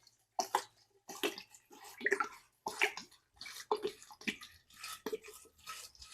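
A liter of 95% alcohol poured over cantaloupe in a container, giving a close, uneven splashing and gurgling run of short liquid bursts with brief pauses.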